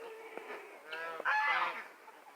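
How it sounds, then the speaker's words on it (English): A few geese honk nearby outdoors in the morning, a short burst of nasal calls that builds into an overlapping, louder clamor before fading. "Of course, the geese are going to cut up because I'm out here."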